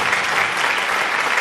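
An audience at a live Jovem Guarda music special claps continuously, a dense, loud, even wash of applause with no voices standing out.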